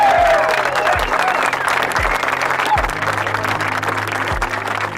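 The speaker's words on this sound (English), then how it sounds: "How about a round of applause?" A crowd applauds continuously, a dense wash of clapping with a few louder claps standing out, steady throughout.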